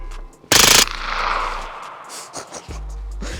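A short, loud burst of rapid gunfire from a suppressed gun, heard close at the start, followed by a lingering low rumble and quieter handling noises.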